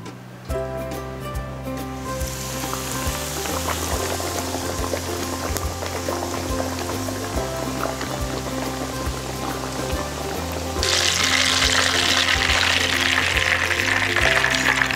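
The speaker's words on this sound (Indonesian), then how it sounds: "Ini langsung kita masukin ke minyak panas." Steady sizzling and crackling of Shihlin-style Taiwanese crispy chicken frying in hot oil, with a low musical backing underneath, the hiss growing brighter toward the end.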